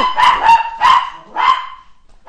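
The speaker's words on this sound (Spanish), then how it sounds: "Tengo una perrita en la casa que se emociona cuando llega mi marido." A small female dog barks excitedly at home in three loud, close bursts of sharp yaps, each fading before a brief pause, with one more bark starting at the end.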